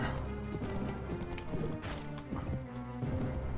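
Horse galloping in the video game Mount & Blade, rapid rhythmic hoofbeats with a few heavy impacts and whinny-like cries mixed in, close and continuous.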